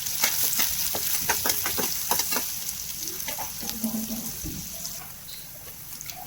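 Onion with ginger, garlic and coconut paste frying in hot oil, a steady close sizzle broken by spoon scrapes and stirring clicks.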